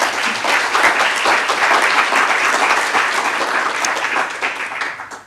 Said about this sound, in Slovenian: Lahko damo en aplavz.